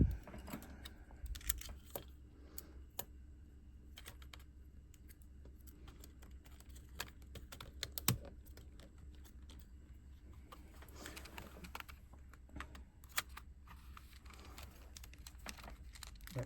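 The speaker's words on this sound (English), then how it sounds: "So let's put some screws back in." A small screwdriver drives screws back into a Nintendo DS handheld console: faint, sparse clicks and light plastic taps, close but quiet, with intermittent scraping.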